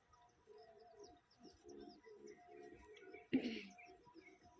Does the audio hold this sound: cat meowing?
no